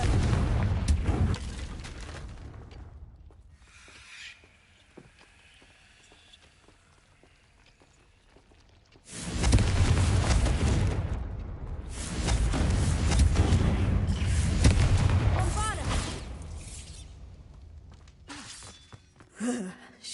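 Confringo explosion spell cast in the video game Hogwarts Mystery, with two loud bursts of blasting, crackling noise separated by a quieter stretch, the second lasting several seconds before it fades, ending in a few short pops.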